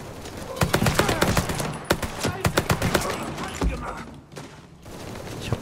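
Rapid bursts of automatic gunfire crackle through a Mafia 3 firefight, sharp repeated shots layered over one another for several seconds, with voices talking in between.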